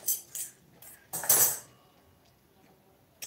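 Dishes and cutlery are put away into drawers in a home kitchen: a few close metallic clinks and one louder clattering rattle, then quiet.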